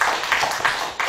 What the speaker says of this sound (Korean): 맞다고 생각하시면 박수 한번 쳐주십시오